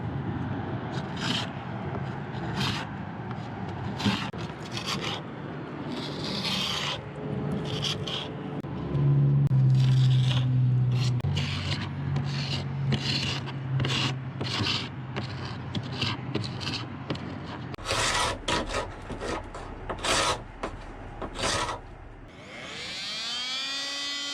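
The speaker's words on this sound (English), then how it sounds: "I'm using a scraper and sandpaper." A scraper and sandpaper work over the fiberglass around an old sailboat's portlight, repeated rhythmic scratchy strokes close up, with a brief whining hum partway through.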